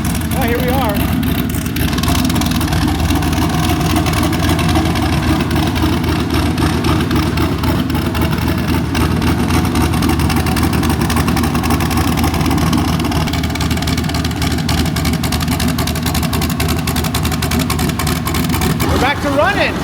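A turbo LS-swapped Datsun engine running again after repair holds a loud, steady, rough idle with a throbbing exhaust drone throughout, close up, while someone talks over it.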